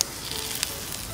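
Horumon offal coated in sauce sizzles in a very hot frying pan outdoors, a loud, close, continuous crackling hiss with a brief sharper pop.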